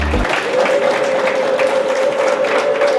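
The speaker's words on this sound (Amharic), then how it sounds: "ብዙ እልልታ ለጌታ" A church congregation cheering for the Lord in a loud, continuous burst, a dense crowd roar with a steady high ululating tone running through it from start to finish.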